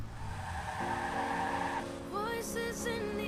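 A car in the video game Watch Dogs pulls away, its engine drone shifting up in pitch as it accelerates, with a brief tire squeal layered over the steady game sound.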